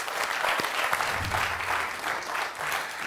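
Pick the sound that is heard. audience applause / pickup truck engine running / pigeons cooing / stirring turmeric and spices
audience applause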